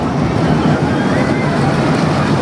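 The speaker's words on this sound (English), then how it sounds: "A very loud and wonderful figure of 8 Zero Tivoli coaster" A Zero Tivoli figure-of-8 kiddie roller coaster, SOS Tornevis at Parc Asterix, rumbles loudly and steadily along its track, a continuous close rolling roar of the train without talk.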